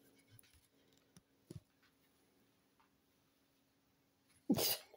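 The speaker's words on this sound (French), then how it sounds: "Ah non, c'est le chien qui vient." A single short, sharp sneeze near the end, loud and close, after a few faint soft knocks and rustles in an otherwise quiet room.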